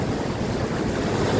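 Ocean waves surging onto a beach, a broad, steady wash of surf with wind noise buffeting the microphone, loud and continuous with no voices.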